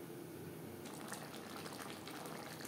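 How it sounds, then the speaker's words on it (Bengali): Potatoes simmering in a spice gravy for a hilsa fish curry with potatoes, a steady bubbling, sizzling wash that turns louder and brighter partway through and carries on without pause, with no talk. "মশলার সাথে আলু আরও 4-5 মিনিট রান্না করব।"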